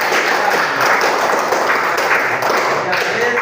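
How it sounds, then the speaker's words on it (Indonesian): Classroom applause from students in an Indonesian school lesson, a steady dense wash of clapping that holds at an even level for several seconds with no voices standing out. "Tepuk tangan dulu."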